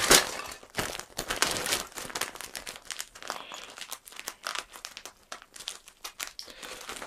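A bag holding ERTL Thomas the Tank Engine toy trains is opened, giving loud, close, continuous plastic crinkling and rustling with small clicks and rattles as it is handled.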